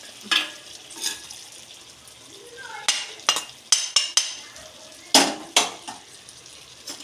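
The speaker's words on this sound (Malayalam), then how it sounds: "എന്നിട്ട് ഇത് മിക്സ് ചെയ്ത് കൊടുക്കണം" A spoon stirs chicken and masala in a pan, giving a series of close metallic scrapes and clinks at an irregular pace over a faint background sizzle.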